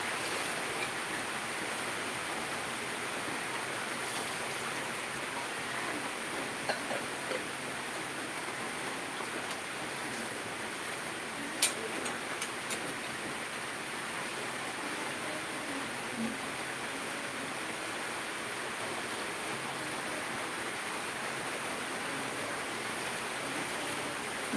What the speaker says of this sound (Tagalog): maingay po tayo, maulan, lakas po ng ulan.